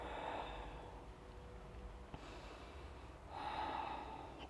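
Slow, deep breathing while holding a yoga pose: a long airy inhale and exhale through the nose, a pause, then another breath, quiet and close in a still room.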